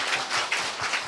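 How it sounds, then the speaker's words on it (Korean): Brief applause from an audience at a book launch, a quick patter of clapping hands, close and even, with no voices over it. "박수 쳐주세요."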